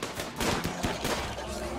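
Bursts of rapid gunfire from the video game RimWorld crackle in quick succession, fairly faint and mixed with other game sounds.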